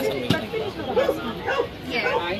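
Dogs bark in short, scattered yips and woofs at a dog show in America where dogs are offered for adoption, heard amid a steady crowd murmur and nearby chatter.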